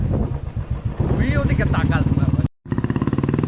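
A motorcycle rides along a mountain road near Kanchenjunga, its engine giving a steady, pulsing throb that drops out briefly and returns, while someone talks over it.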